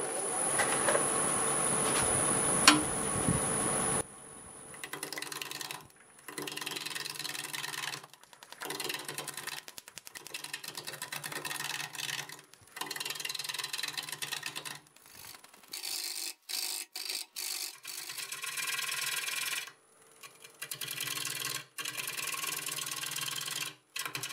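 A bowl gouge cuts into black locust spinning on a wood lathe at about 640 RPM, producing repeated rough rasping bursts separated by short pauses, close and fairly loud after a steadier hum at the start.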